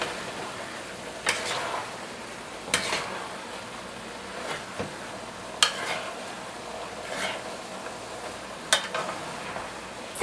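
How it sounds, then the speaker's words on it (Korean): Minced meat stirred in scallion oil in a pan over low heat, a quiet continuous sizzle with a utensil scraping and tapping the pan every second or two, close and fairly soft. "파기름을 내어 다진 고기를 넣고 약한 불에 계속 저어주면서 수분이 다 없어질 때까지"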